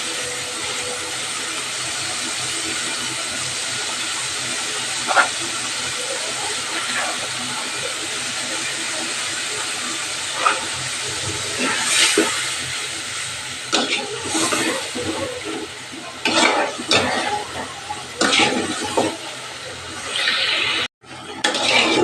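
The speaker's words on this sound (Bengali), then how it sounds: "এইবার মশলাটা ভালো করে কষিয়ে নেব" Spice masala with Kashmiri red chili powder sautéing in a pan for lote fish curry, a steady hiss with scattered utensil scrapes and clinks, growing busier toward the end.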